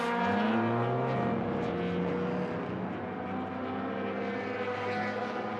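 A touring car engine drones at a steady pitch during a 300 km race, its tone shifting slightly as it passes, loud and continuous with no talking.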